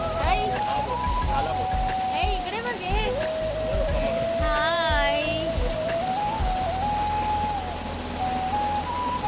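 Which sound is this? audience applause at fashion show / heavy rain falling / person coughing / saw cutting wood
heavy rain falling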